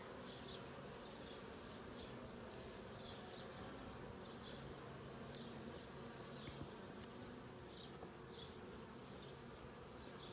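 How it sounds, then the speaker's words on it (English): Constant low buzzing of many honey bees close by around a package hive, steady throughout, with individual bees droning past now and then. "Lots of bees up in the top box now"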